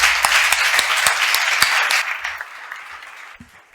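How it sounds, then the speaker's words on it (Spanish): An audience at an architecture talk applauds its guests with a burst of dense clapping that fades out over a few seconds. "creo que hay que aplaudir a nuestros invitados"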